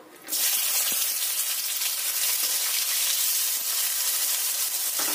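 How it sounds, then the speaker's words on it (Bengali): Four large chopped onions hit hot white oil and burst into a loud, steady broadband sizzle that holds unbroken for several seconds, with faint utensil scrapes now and then and no talking. "বড় সাইজের 4টে পেঁয়াজকে কুচিয়ে রেখেছিলাম, সেটা ভাজার জন্য দিয়ে দিলাম"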